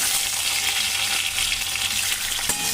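Whole dried red chillies hit hot oil for tempering a sour dal, giving a loud, continuous sizzle and crackle that holds steady throughout, with a brief clink near the end.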